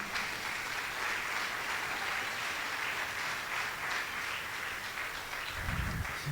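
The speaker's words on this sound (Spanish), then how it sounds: "Si le vas a dar ese aplauso a Dios, dáselo con fuerza en esta mañana" A church congregation claps together in a sustained, steady wash of applause at fairly close range, with no voices standing out above it until a low thump near the end.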